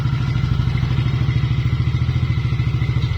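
A Yamaha NMAX scooter engine starts and settles into a steady, close idle with a rapid, even pulsing beat throughout.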